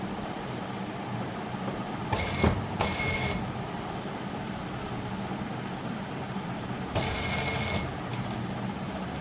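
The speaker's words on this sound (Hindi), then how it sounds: "इसके बिल्कुल नीचे नीचे यूँ स्टिच करते जाना है ऐसे" A sewing machine runs steadily while stitching the neckline of a ladies' kameez, a continuous mechanical whir with brief louder bursts of faster stitching, alone and fairly close.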